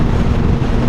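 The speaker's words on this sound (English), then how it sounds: "Quite windy today, stormy." Strong wind roars across a microphone while riding a Kawasaki ZX6R inline-four 600 sport bike on a stormy day, a steady loud low rumble with no speech.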